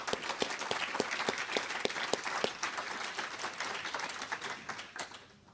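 A crowd applauds steadily for several seconds, many hands clapping together, then the applause slowly fades out.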